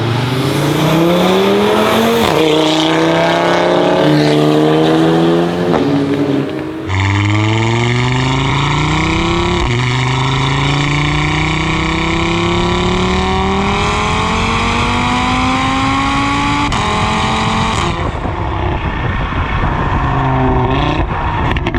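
A 550HP Audi RS3 at the Nürburgring roars loudly and continuously, its engine and intake note rising through gears with sweeping pitch climbs and brief shift dips, close and dominant throughout with no talk.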